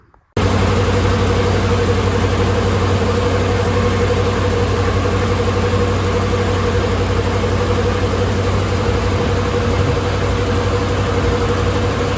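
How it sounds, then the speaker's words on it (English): A Ford 302 5.0 V8 with a GT40P head and E303 cam change idles on a dyno at about 1300 RPM, a loud steady rumble with a constant low hum, starting abruptly after a brief quiet moment. "it's idling at about 1300 RPM"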